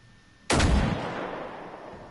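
A single loud gunshot from the Generation Zero video game on PS4 cracks sharply and then trails off in a long booming echo that fades over about a second and a half.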